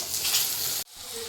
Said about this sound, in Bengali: তো এখন দেখতেই পাচ্ছ পটল ভাজা হচ্ছে